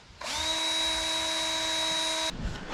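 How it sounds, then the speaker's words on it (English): A power drill whines steadily at a high pitch for about two seconds while drilling into a broken-off bolt, starting and stopping abruptly, close and loud. "Drill a hole in the broken off bolt."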